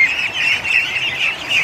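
Many ducklings, newly hatched in an egg hatcher, chirp continuously, high peeping calls overlapping close by in a busy, steady chorus.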